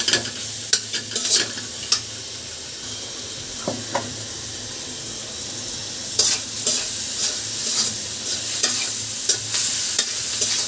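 Turmeric, chili, coriander and salt fry in oil for a shrimp and bitter gourd stir-fry, giving a loud, close, continuous sizzle with bursts of spoon scraping and stirring against the pan.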